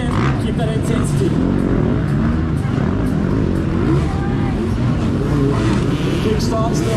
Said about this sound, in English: Kick starts the YZ up and over.